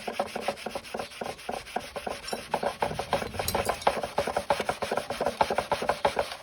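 Scrubbing a stain with a cleaning product after it has soaked: brisk, rhythmic back-and-forth rubbing strokes, close and steady, repeating rapidly for several seconds with no talk.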